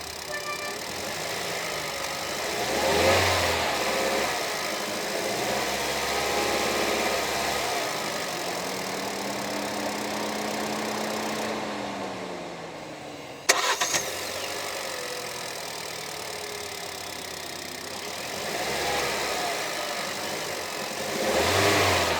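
A Hyundai Creta EX SUV engine starts and settles into a steady idle, then revs up and down in several swells, heard alone with no voices.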